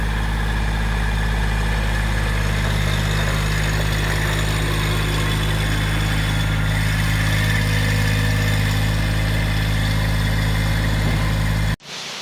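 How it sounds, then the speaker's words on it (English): A tractor engine idles with a steady, low, throbbing rumble for the whole stretch, then cuts off abruptly right at the end. "I got a tractor."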